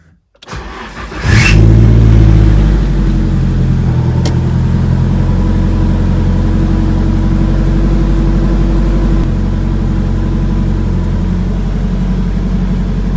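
A Nissan 240SX engine cranks and fires after a second of quiet, then runs loud and close at a steady, rumbling idle for the rest of the clip.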